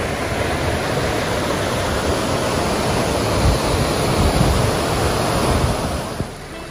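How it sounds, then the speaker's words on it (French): Powerful river water roars steadily close by after a storm, a dense unbroken torrent with no voices, easing slightly at the very end. "Les rivières coulent avec une puissance"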